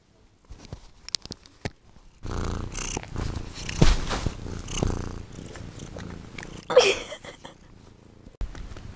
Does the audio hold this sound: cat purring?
yes